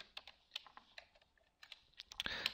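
Keystrokes on a computer keyboard clatter in quick irregular bursts, fairly faint and close, with a denser flurry of clicks near the end.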